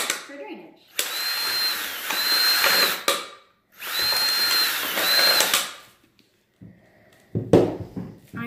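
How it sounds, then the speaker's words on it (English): A handheld power drill with a 5/8 bit bores drainage holes in the bottom of plant cups, making two loud, close whining bursts of a few seconds each, then a short rattle and handling noise at the end. "you take your cups, you use a drill, 5/8 bit, and you make a few holes in the bottom"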